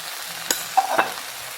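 Spices such as garam masala, coriander powder and chili powder sizzle with onions in a pan, with a soft steady frying hiss and a few brief stirring scrapes, close and without talking.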